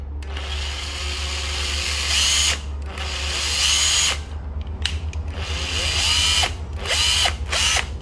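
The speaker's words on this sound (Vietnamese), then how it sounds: "Chốt hạ một cây khoan 105. EZT 105." A Japanese cordless drill, model EZT 105, runs in loud bursts with its motor speed rising and falling, pausing briefly between runs; a steady low hum sits underneath throughout.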